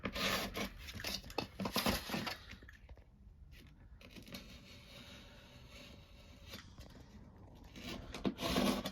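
A utility knife slicing freehand through Schluter Kerdi shower membrane, giving a close, continuous rough rasping and tearing that fades to quieter scraping in the middle and picks up again toward the end.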